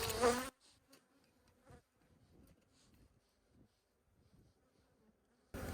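Agitated honeybees buzz at an open hive during a spring inspection, with loud, close bursts at the start and end and faint buzzing and light handling noises between. No one speaks.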